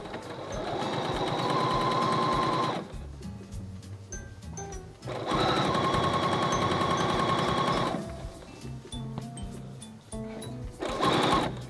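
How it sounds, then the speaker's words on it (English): A Bernina sewing machine stitching a quarter-inch binding seam, a loud close rapid chatter running in three long bursts and a short final one, separated by quiet pauses with small handling clicks. "I'm just gonna sew a 1/4 inch seam and put the binding on the edge"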